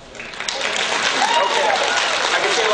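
Audience at a chemistry show claps in a dense, sustained wave of applause that builds quickly and holds steady at fairly close range, with a voice faintly heard under it.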